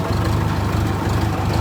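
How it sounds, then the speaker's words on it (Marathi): A tractor engine runs steadily nearby at a farm cattle shed, a low continuous rumble with an even throb and no talking. "तर मी आणलाय आता गोट्यापाशी ट्रॅक्टर."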